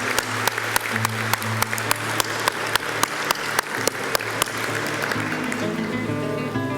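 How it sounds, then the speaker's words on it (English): Sustained applause from a graduation audience at a college ceremony, many hands clapping steadily and loudly throughout, with a low steady hum underneath and a few louder individual claps standing out. "a round of applause for our graduates in New Media and as well as Hotel Management"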